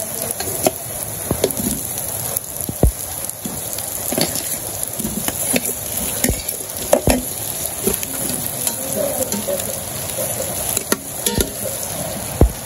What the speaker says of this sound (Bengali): পেঁয়াজ ভাজা হয়ে গেছে আলু দিয়ে দিই